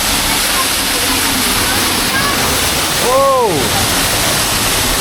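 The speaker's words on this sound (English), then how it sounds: "right as I walk under a waterfall" Waterfall in Furong Ancient Town, a hillside town with a 2,000-year history, gives a steady broadband rush close by. A person's brief exclamation comes partway through.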